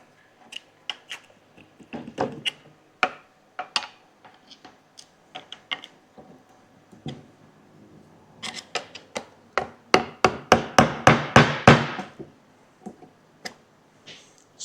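Sharp metallic taps and scrapes as a pry bar works around the glued front differential cover of a Toyota Hilux, scattered clicks building into a rapid burst of close knocks, then tapering off.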